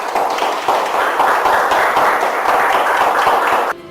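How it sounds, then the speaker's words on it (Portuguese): A church congregation claps together in a dense, steady burst of applause that lasts several seconds and then stops abruptly. "Aplauda Jesus."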